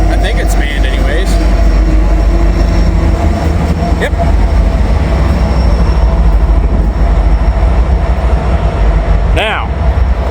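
A freight train with a manned DPU helper locomotive rolls steadily past a railroad work zone, its continuous loud rumble and wheel noise filling the scene, with a brief high squeal near the end and someone speaking once.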